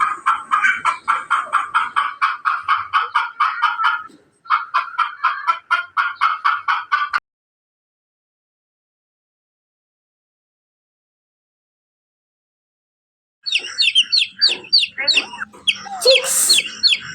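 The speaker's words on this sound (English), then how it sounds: "hen" A hen clucks among rapidly peeping chicks in quick, busy bursts, then a long silence before the chirping and clucking resume nearby.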